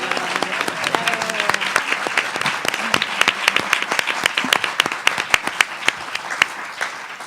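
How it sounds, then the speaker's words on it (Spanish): A book presentation audience breaks into sustained applause, a dense wash of many hands clapping steadily throughout, fairly loud and close, with no speech over it. "Si quieren pueden aplaudir de nuevo, no hay ningún problema."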